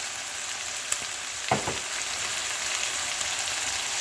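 Keema frying with tomatoes in a karahi, a steady close sizzle throughout with a couple of brief stirring scrapes early on, no voices.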